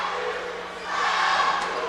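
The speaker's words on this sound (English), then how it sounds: "this large crowd at Southview is making some noise" A large crowd roars at a Southview high school boys' basketball win over Elyria, a dense, loud wall of cheering and shouting that swells briefly partway through.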